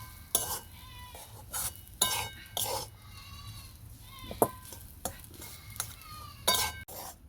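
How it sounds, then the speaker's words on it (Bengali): A spoon stirs chicken kachori filling in a pan, with repeated scraping and clinking strokes in an irregular rhythm, close and moderately loud, over a faint sizzle. "এইভাবে নেড়ে চেড়ে ভালো করে পুরটা আমি তৈরি করে নেব"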